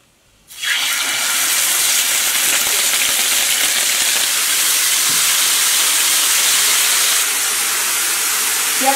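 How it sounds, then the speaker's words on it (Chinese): Chicken legs hitting a hot flat pan, a sudden loud hiss and steady sizzle of frying that starts abruptly and continues evenly, with no talk. "用平底锅先把鸡腿煎一下。"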